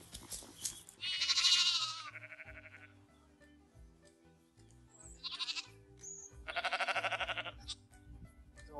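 Sheep bleat loudly in a farm field, with several drawn-out, wavering calls coming in separate bursts close by and quieter gaps between them.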